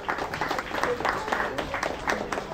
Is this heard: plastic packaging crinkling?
no